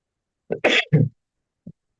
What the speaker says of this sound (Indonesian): saya agak sedikit masih batuk ini dari minggu lalu, ya, belum sembuh-sembuh